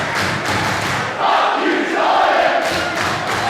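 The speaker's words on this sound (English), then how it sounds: "The PWA crowd there showing their displeasure for Unsocial Jordan." A PWA professional wrestling crowd jeers and shouts in disapproval inside an arena, a loud continuous roar of many voices that swells midway without letting up.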